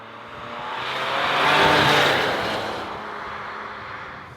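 A 2017 Smart Brabus fortwo or forfour accelerates with a rising engine roar that swells to a peak and then eases into a steady drone, heard close and without talk.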